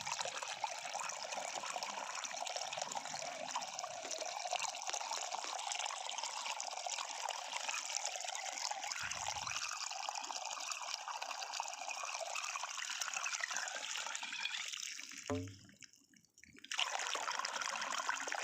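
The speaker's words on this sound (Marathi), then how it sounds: "हा पाईप इथे पाणी टाकत आहे अशा पद्धतीनं" Irrigation water pours steadily from a pipe into paired furrow rows in a field, a continuous, fairly faint rushing trickle that dips briefly near the end.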